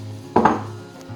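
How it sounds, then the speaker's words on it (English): A whole head of broccoli drops into a cooking pan alongside onion for a zoodle bolognese, one close double thud and clatter against the pan over a low steady hum, then quiet. "I'll pop the broccoli in, that's a whole head of broccoli there"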